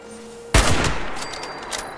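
A single sharp gunshot bursts out of a quiet in-game scene in Fallout 76, followed by a long decaying rumble and faint scattered reports, loud and alone.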